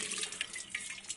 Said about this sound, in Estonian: Ma pesin korra käed ära